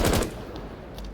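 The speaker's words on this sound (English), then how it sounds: "so I'm going to shoot again and just see what happens" Gunfire from Thatcher's weapon in the shooter game Rainbow Six Siege: a quick loud burst of several shots at the start, then a fading echoing tail, with no voices.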